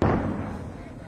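A single mortar round firing in a combat zone, one heavy boom at the start that decays into a rumbling tail.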